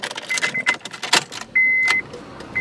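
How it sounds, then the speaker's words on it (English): Keys jangle and clack as a 2006-2011 Honda Civic Hybrid is switched on, followed by a steady electronic chime tone lasting about half a second, all close and fairly loud. "here we're going to turn the vehicle on"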